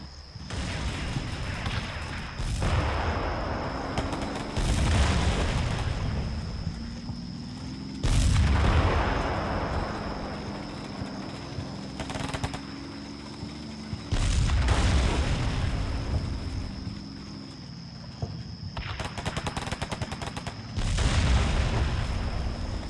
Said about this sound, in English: BMPs are still firing rockets.